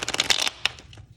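A tarot deck with gilded edges is shuffled close by, giving a quick rapid flurry of riffling card snaps followed by a couple of softer isolated flicks.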